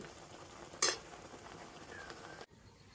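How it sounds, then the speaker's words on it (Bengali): A spoon stirs cooked raw mango pulp in a pan: one sharp scrape, then soft, steady stirring close by with no voices. It cuts off abruptly near the end. "তো দেখুন যতটা সম্ভব চামচ দিয়ে তো আমগুলোকে এইভাবে ঘেঁটে দিয়েছি।"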